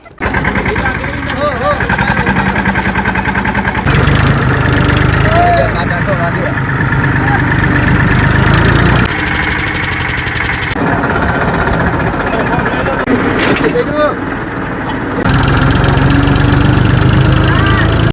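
A tractor engine runs steadily for the whole stretch, a loud, continuous low rumble with a rough mechanical chatter, while voices speak over it nearby.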